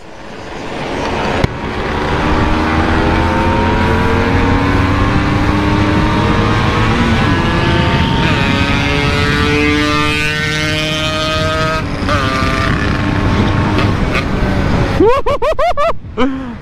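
Honda Supra motorcycles racing, their engines droning loud and close with pitch climbing and easing as they accelerate, under constant wind buffeting.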